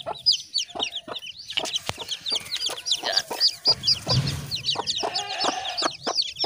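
Kadaknath and Murkatti crossbreed chickens cluck busily nearby, with rapid overlapping clucks and squawks from several birds and a brief rustle partway through.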